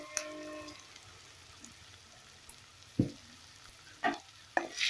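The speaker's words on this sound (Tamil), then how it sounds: "நல்லா வதக்கி விட்டுக்கலாம்." Tomato masala with chili powder stirred and sautéed in a pan, a soft steady sizzle under a few sharp clinks and scrapes of the spoon against the metal.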